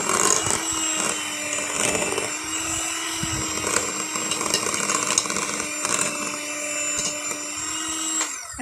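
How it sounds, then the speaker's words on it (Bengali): An electric mixer beats eggless marble cake batter at low speed, giving a steady, close motor whine with a buzzing harmonic tone that holds throughout with slight wavering. "আস্তে মিক্সির স্পিড কমিয়ে বা বিটারের স্পিড কমিয়ে ব্লেন্ড করতে হবে।"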